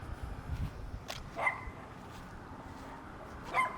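A small dog barks a few sharp, fairly faint times outdoors, with soft yips and a final bark near the end against a quiet background.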